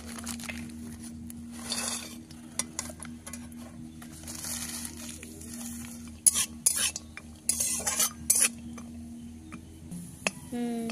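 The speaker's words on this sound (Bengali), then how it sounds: "এই যে কাজু কিশমিশটা ভেজে নেবো এবার" Cashews and raisins frying in a pan of oil bring a soft sizzle under repeated scraping and clinking of a metal spoon stirring them, with sharp clatters coming in short bursts.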